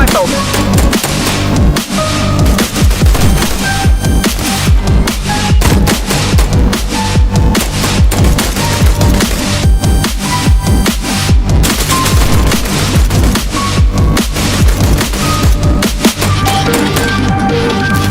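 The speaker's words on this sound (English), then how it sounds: "He has an assault rifle!" Assault rifle gunfire in a video game, loud dense bursts of rapid automatic shots repeating almost continuously across the whole stretch, with occasional heavier booms and shouting voices mixed in.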